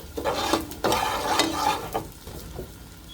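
Onions and crayfish fry in a pot for egusi soup, with a steady sizzle under the close scrape and clink of a spoon stirring against the pot, the stirring strokes coming in a few distinct pushes.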